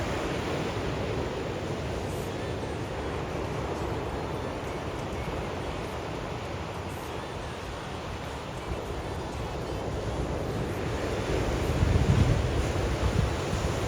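Steady roar of ocean surf near Adelaide, South Australia, with waves washing in continuously, a slightly louder surge near the end, mixed with wind noise.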